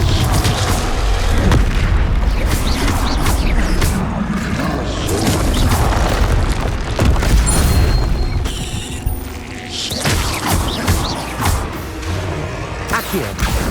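A Confringo fire spell in the Hogwarts Legacy video game sets off loud, continuous booming explosions with rumbling crashes throughout, layered dense game combat noise.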